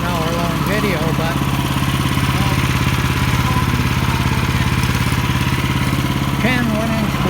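Woodland HM122 sawmill's small engine running steadily throughout while milling board-and-batten siding boards, a loud continuous mid-pitched drone with clattering, and a person talking intermittently over it.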